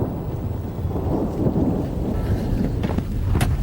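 Thunder from a nearby lightning storm rumbles loud and close over steady rain and wind noise, with a sharper crackle near the end and no talk.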